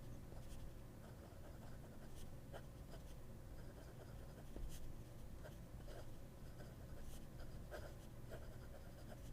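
A broad fountain pen nib, on a Lemon M6 pen, scratches steadily across paper with faint, dry, papery strokes and small ticks, close up and quiet, with no voices over it.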